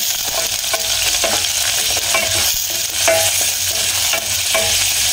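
Garlic and onion sauté in a pan with a loud, continuous sizzle, close up, and repeated stirring scrapes throughout. No one speaks.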